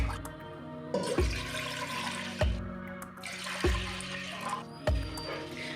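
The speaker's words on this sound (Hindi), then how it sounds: "उसके लिए तकरीबन 3 गिलास मैं पानी लूँगी" Bursts of running water splash and pour into a pot in several separate gushes, each starting sharply and trailing off, with quiet pauses between.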